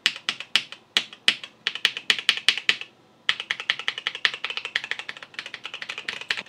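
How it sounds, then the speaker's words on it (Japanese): Close clatter of a Koolertron one-handed mechanical keyboard with red switches, fast uneven keystrokes tapping in quick bursts, a brief pause near the middle, then steady continued typing, no voices. "結構いい感じの赤軸タイピング感ですね"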